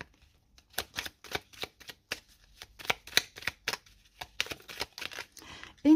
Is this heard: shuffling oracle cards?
yes